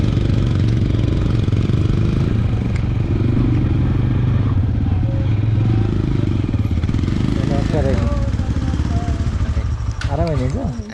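Motorcycle engine running on a rural road in the Halesi area of Nepal, a close, steady mid-pitched drone with clatter, slight revving near the end.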